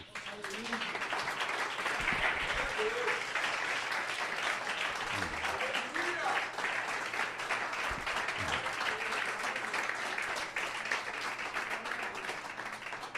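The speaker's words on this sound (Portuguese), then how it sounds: "Dê um aplauso a Jesus." A church congregation applauding at a Portuguese-language service, sustained dense clapping with a few low voices and thumps mixed in.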